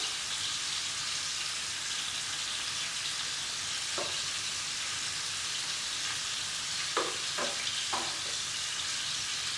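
Ahi tuna searing in a pan, a constant, even hiss of hot oil throughout, with a few faint taps near the end and no talking.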